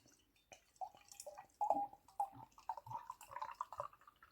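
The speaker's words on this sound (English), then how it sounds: "We're gonna pour it all in." Strong 10.8% Umami doppelbock beer pours into a brewing glass, with uneven splashes and gurgling bursts of liquid heard close up and without talk.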